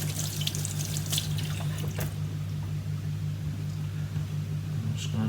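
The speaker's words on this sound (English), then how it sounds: "I'll give that another rinse now." Tap water runs steadily into a sink while a model paint brush is rinsed clean, a continuous close splashing stream with a few brief louder spatters early on.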